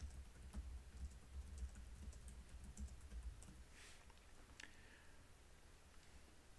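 Text typed on a computer keyboard, a quiet run of fast, irregular key clicks and taps close to the microphone, faint overall with no talking.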